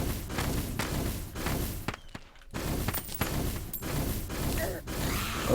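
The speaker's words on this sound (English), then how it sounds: "That little explosion effect is going to make this fairly useful." Crystal Serpent magic weapon in Terraria firing explosive bolts, a run of sharp bursting thuds repeating in quick succession with a brief gap midway.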